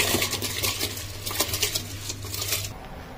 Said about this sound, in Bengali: 4-5 বার জল দিয়ে ধুয়ে নিয়ে এবার চালটা আমি তুলে দিচ্ছি